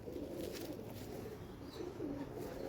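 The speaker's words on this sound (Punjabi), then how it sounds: "ਸਹੀ ਬਰੀਡਰ ਕਬੂਤਰ ਆ ਜੀ" A breeder pigeon cooing close by, soft low rolling coos repeating over a faint background hum, with no speech.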